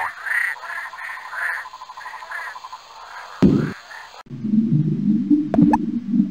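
Pipa toad croaking in a jungle exploration video game: a run of repeated low, rhythmic croaks over a steady ambient jungle bed, then a sharp thud and a shift to a deeper, rumbling croaking texture, with no talk.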